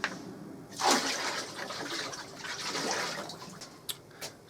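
Water pours into an electrolysis tub being filled toward 80 litres, a steady rushing splash lasting several seconds, close and moderately loud, tapering into a few drips and small clunks at the end.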